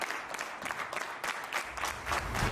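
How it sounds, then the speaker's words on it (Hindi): Audience applause at a Hindi-language talk event, steady mixed clapping from a crowd, moderately quiet and even throughout with a few louder claps. "इनके लिए एक बार जोरदार तालियां बजा दें।"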